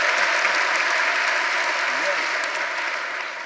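Loud, dense audience clapping fills a historic theater during an awards ceremony, holding steady before easing slightly toward the end.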